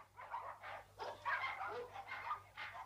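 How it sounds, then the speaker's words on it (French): A dog lets out a series of short, rhythmic yips and whimpering barks, about half a dozen in quick succession, close and moderately loud, with no talk. "c'est ton chien celui-là?"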